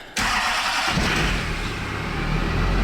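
A Duramax diesel truck engine cranks briefly and catches, settling into a loud, rough, steady idle close by, with no talking.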